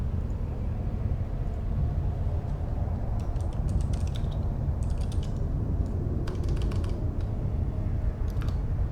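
Typing on a computer keyboard, bursts of quick clicky keystrokes in irregular clusters over a steady low background hum, fairly close and moderately loud.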